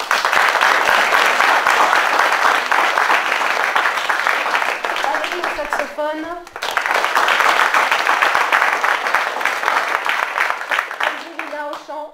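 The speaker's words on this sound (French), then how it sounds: "Je voudrais vous demander d'applaudir Daniel." A concert audience applauds the musicians, including a saxophonist, with loud, dense, sustained clapping that fills the room, breaks off briefly while someone speaks, then surges again before his voice returns near the end.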